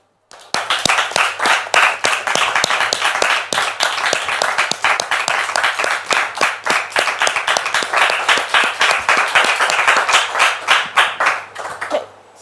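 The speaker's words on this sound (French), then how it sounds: "on va la recevoir avec votre permission et surtout avec le soutien du public sous vos applaudissements" A studio audience claps in sustained, dense applause to welcome a guest onto a television talk show, loud and steady from start to finish before fading at the very end.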